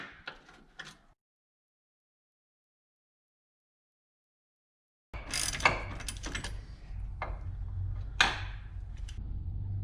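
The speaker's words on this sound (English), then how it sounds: "we're going to have to put a wrench in there and hold the backside of them" A wrench works on bolts on the steering rack of a 1986 Mustang, giving close metallic ratcheting clicks and scraping. A brief burst opens, then several seconds of silence, then a longer stretch of clicking and clanking.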